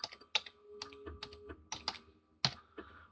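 Keys clatter on a computer keyboard in brief irregular bursts of close, sharp clicks, with a faint low hum underneath and a short tone running through the middle.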